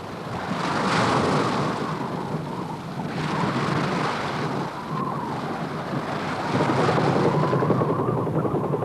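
A helicopter's steady, loud rotor roar in Tierra del Fuego with broadband rushing noise, rising and falling slightly in waves, continuous throughout with no voices.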